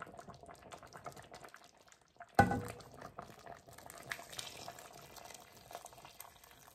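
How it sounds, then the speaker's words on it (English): Pinto beans and ham hock boil in a pot on medium heat, giving soft, steady bubbling and gurgling, with a brief louder splash of liquid partway through. "After your first 30 minutes of boiling these beans on medium"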